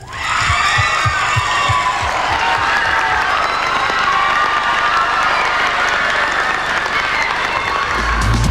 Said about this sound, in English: One final round of applause for them.